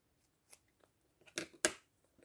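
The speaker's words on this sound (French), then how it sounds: "Je coupe mon petit bout de tissu qui dépasse." Scissors snipping a small scrap of fabric during a napkin-decoupage tooth box craft, a few faint, close snips that build to two sharper cuts near the end.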